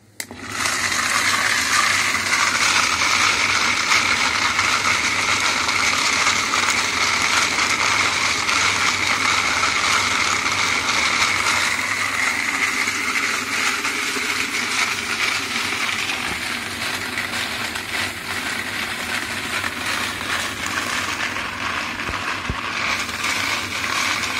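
A wet tumbler cleaning cartridge cases runs with a steady, loud mechanical churning and rattling that continues alone throughout, shifting slightly in tone partway.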